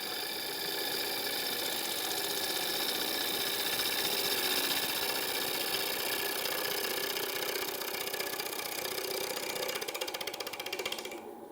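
A wood lathe spins a live-edge bowl turned from firewood, giving a steady droning whir with a tonal hum that runs for about eleven seconds before it starts to fade.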